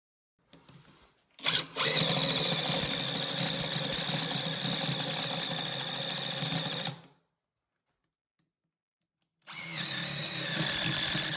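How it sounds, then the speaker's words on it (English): A power drill with a butterfly bit whines loudly and steadily for about five seconds while drilling holes in timber, stops into silence, then starts up again. "we're going to drill some holes for the countersink dowel"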